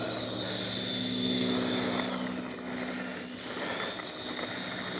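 An FMS 64mm electric ducted-fan F/A-18 Hornet RC jet flies overhead with a steady high whine and rushing roar that swells and eases slightly as it passes at moderate distance.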